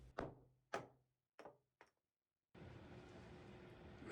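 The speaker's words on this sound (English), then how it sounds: "taking my hammer to knock those out of place" A hammer knocking out notches cut with a circular saw in tough salvaged wood for a workbench: four sharp knocks spaced apart, close and distinct, then a steady hiss of background noise.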